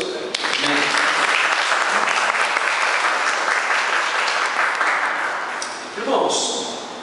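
A church congregation applauds after a sermon, sustained loud clapping across the room that thins near the end, with brief voices and a faint ringing tone mixed in.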